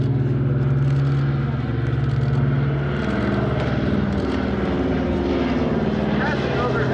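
A Curtiss C-46 transport plane passes overhead at a WWII warbirds airshow at the beach, its piston engines and propellers droning loud and steady, with a voice talking over the roar.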